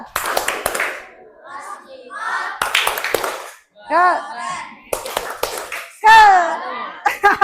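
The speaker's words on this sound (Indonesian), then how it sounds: "Ayo kita tepuk salut untuk kita semua dulu" A class of fifth-grade children performs a rhythmic salute clap in a classroom, with bursts of quick claps and taps alternating with children's chanting voices and a teacher speaking.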